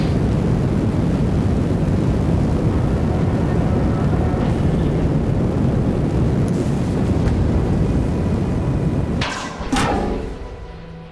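An overloaded Kerbal Space Program 2 rocket with too many engines roars loudly and steadily for several seconds, then fades as sharp, close bangs burst out near the end.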